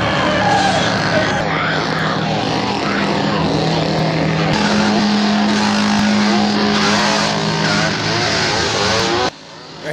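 A truck rumbling along in a 1970s horror film scene, its engine droning loudly and steadily with a sustained tone before cutting off abruptly near the end, mixed with other film sounds and some voices.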